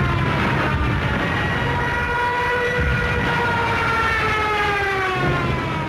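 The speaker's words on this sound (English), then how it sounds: "The German Junkers 87 dive bomber, nicknamed the Stuka, and fitted with a screaming siren." Wailing siren of a German Junkers 87 Stuka dive bomber, a loud rising and falling scream with a steady roar beneath it, continuous for several seconds.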